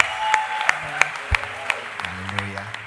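Church congregation at Fountain Church uMnambithi clapping in applause, with separate claps over organ or keyboard tones and voices.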